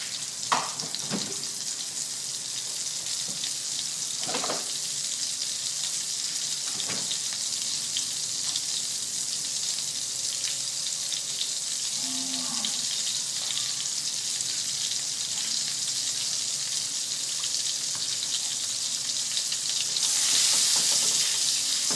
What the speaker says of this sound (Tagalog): I'm adding around 35 grams of butter.